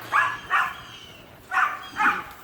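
A pet dog barks four times in an even rhythm, the barks moderately close over a steady background hiss, with no talking.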